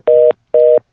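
Two short, identical dual-tone beeps sound one after another from a new office phone system's keypad when a line is switched, loud and close with a brief gap between them.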